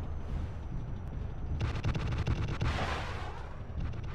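Missiles launch in the video game MWLL over a constant mechanical rumble: a cluster of sharp rapid firing bursts is followed by a roaring whoosh that swells, then a few fainter pops.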